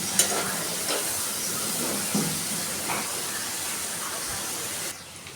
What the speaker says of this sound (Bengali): গাজর আর ক্যাপসিকাম আমি একসাথে আরও কিছুক্ষণ নেড়ে ছেড়ে নরম করে ভেজে নেব।